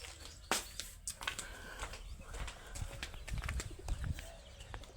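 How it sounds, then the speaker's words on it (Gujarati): Pigeons coo and flutter nearby while being fed grain in an open outdoor space, with scattered wing flaps and soft clattering footsteps; no one speaks. "થોડાક કબૂતર પોઈ સરે રહ્યા ને થોડાક ઉડે રહ્યા"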